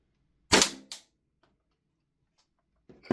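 A Tokyo Marui AKM airsoft rifle running on propane fires a 0.3 gram BB. There is one sharp, loud report with a quick mechanical follow-up click, then quiet, then another snap starts at the end.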